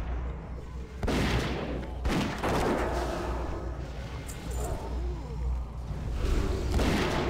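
A worgen hunter's gun fires in World of Warcraft Cataclysm, with repeated loud shots at about one, two, and near seven seconds set in dense game combat noise and ambience.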